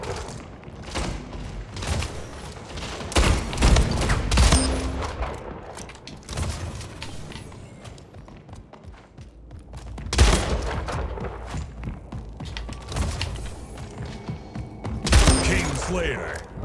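Shotgun blasts in the arena shooter Splitgate, loud repeated booming bursts spaced a few seconds apart with heavier clusters, mixed with other game noise and a player talking over it.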